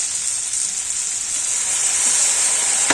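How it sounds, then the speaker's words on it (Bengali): Chow mein ingredients and chili sauce being stirred in a hot pan, giving a steady, close sizzling hiss with faint utensil scrapes throughout and no talking. "চিলি সসটা দিয়ে একটু নাড়িয়ে নেব"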